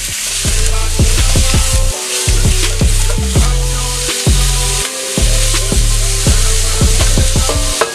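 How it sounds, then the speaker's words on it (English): Turkey and garlic fry loudly in a pan, a dense close sizzle broken by rhythmic scraping strokes of a utensil stirring through the meat, with brief pauses between passes. "I've literally got the garlic in there and I've got turkey fried"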